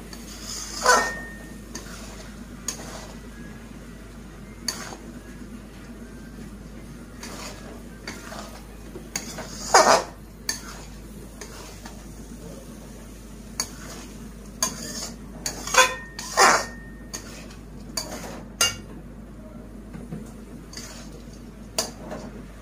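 A spoon stirs khichuri in a cooking pot, giving irregular clinks and scrapes against the metal that come in scattered bursts over a soft low simmer, close and fairly quiet.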